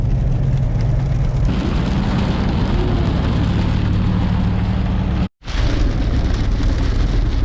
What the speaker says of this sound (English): Haven't seen rain like this since our honeymoon trip.